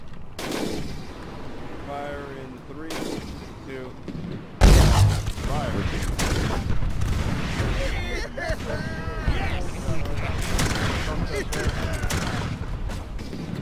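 Swivel guns on a ship in the naval battle game Blackwake open fire with a sudden heavy blast midway, followed by a dense roar of shots and battle noise, while a player talks and laughs throughout.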